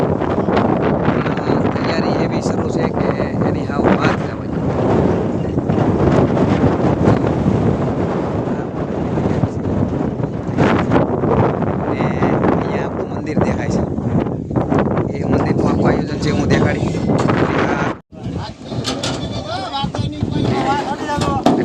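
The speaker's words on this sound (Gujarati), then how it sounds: "પવન પણ એટલો જ છે" Strong wind buffets the microphone in a loud, continuous roar with gusty surges, while people talk underneath.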